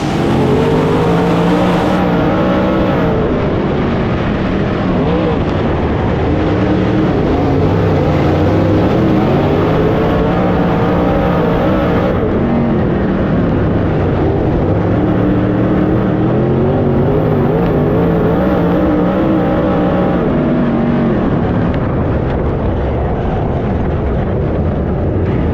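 Race cars roaring around the Sugar Creek track just after the green flag, engines loud and close with rising and falling revs as cars pass, a continuous dense rumble for the whole stretch.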